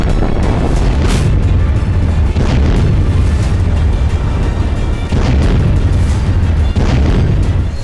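Russian RBK-500 cluster bomb, a modified version, detonating in a wartime strike: loud rolling booms recur across a dense, constant roar of blasts, with no speech.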